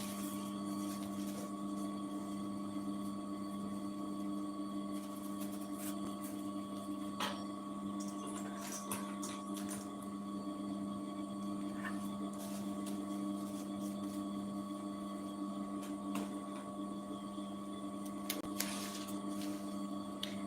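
A sewing machine stitching a puffer backpack, running as a steady mechanical whir and hum with light rattles and clicks, nearby and continuous without speech.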